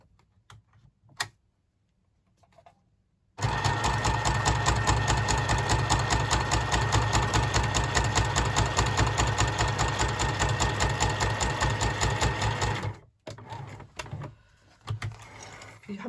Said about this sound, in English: So I'm just going to do a straight stitch down there on my sewing machine